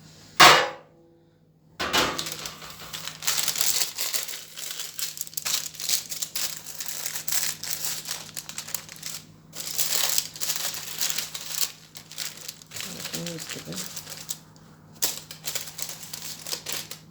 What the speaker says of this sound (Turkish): Gördüğünüz gibi kağıttan da çok kolay çıktı zaten.